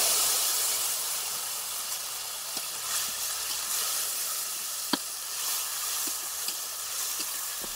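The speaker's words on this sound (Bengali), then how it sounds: "ফোড়নে দিয়ে দিচ্ছি একটা তেজপাতা, শুকনো লঙ্কা দুটো, রাঁধুনি ও পাঁচফোড়ন দিয়েছি।" Bay leaf, two dried red chillies, radhuni and panch phoron sizzling in hot oil for a Bengali dudh shukto, a steady loud hiss and crackle with a few sharp pops throughout.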